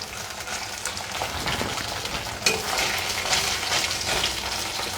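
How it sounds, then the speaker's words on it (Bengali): Paneer frying lightly in hot oil, a steady dense sizzle and crackle heard up close, with a sharper pop and a few brief spikes of spattering partway through. "ভেজে নিচ্ছি পনিরটা একটু হালকা"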